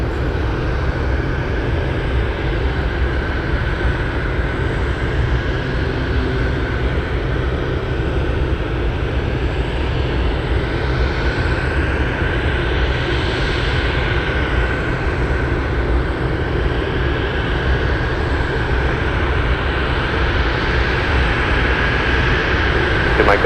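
A Boeing 747 at Anchorage airport gives a continuous loud jet engine roar that swells slightly midway, a steady broadband rumble with a faint high whine, with no talk over it.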